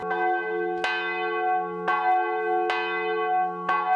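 Large bells of the Sacré-Cœur de Jésus cathedral ring slowly on Christmas Eve, with four resonant strikes whose tones hang and overlap in a long sustained hum, with no voices.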